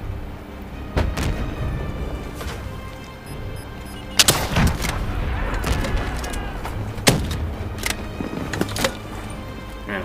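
Call of Duty: Black Ops 3 gunfire, a scattering of sharp shots and bursts at varied distances over a steady game-ambience bed, with a few louder cracks standing out.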